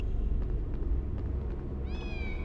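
A cat meows in the PlayStation game Harry Potter and the Philosopher's Stone, a short, clear, rising call near the end over a steady low game background hum.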